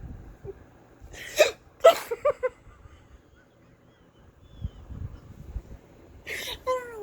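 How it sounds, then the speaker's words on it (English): Several short, sharp hiccups come in a quick burst early on, then another pair near the end, with soft breathing and rustling in between. "Oh my god, having the hiccups is so much fun."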